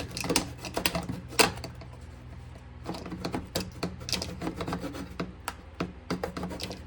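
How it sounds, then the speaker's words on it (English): Small hand saw rasping through model railway track, a close series of short irregular scraping strokes with light clicks, briefly pausing and then resuming at a quicker rhythm. "Sometimes we can just put that in there and saw this along."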